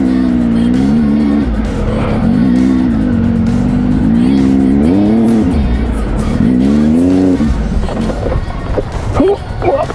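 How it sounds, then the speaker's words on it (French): An off-road motocross motorcycle ridden through clay at a weekend event roars close and loud, its engine pitch rising and falling with repeated throttle bursts as the rider accelerates and brakes. "Le cross dans la glaise, ça déchire."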